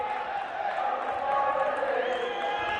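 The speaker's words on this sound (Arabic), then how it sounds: "اسمع الجمهور" Crowd noise fills a handball arena during a Bahraini league match between Al Ahli and Bahrain, a sustained, loud roar of cheering and chanting that holds steady throughout, with no break.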